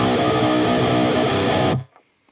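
A riff at full speed on a heavily distorted electric guitar, a dense, loud chugging power-chord pattern on the low strings that cuts off abruptly, leaving a faint tail.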